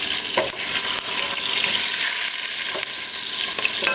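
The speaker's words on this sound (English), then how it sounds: "now I'm going to flip my onion. So I usually do that with my tongs and my wooden spoon." An onion frying in a pan gives a loud, steady sizzle, broken by a few soft knocks as it is turned with tongs and a wooden spoon, and no one speaks.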